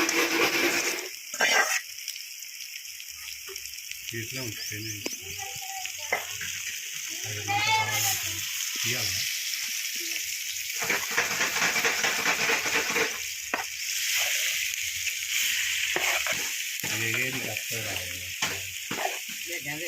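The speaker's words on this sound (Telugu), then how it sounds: "చేపలు వేసుకుంటున్నాం చూడండి ఫ్రెండ్స్" Fish dropped into a hot pan over a wood-fired stove, giving a steady close sizzle and crackle with stirring and water-like hiss throughout, while people talk intermittently over it.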